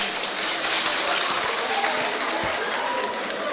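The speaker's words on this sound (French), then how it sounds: "Allez-y, applaudissez, vous pouvez les applaudir." An audience applauds students of Lycée Baudelaire d'Évry at an MDEA day event in Île-de-France, a steady wash of clapping from a crowd filling the space without pause.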